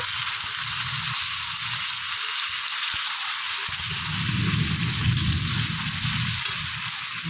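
Chopped potato and onion frying together in oil for chow mein, a steady close sizzle that swells after a brief lull, with light stirring scrapes in the pan.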